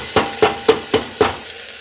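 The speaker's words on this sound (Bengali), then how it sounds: "ভালো করে পেঁয়াজটা ভাজতে হবে।" Chopped onions fry in a pan for biryani: a steady sizzle with five evenly spaced scraping stirs of a spatula, close and loud, no talking.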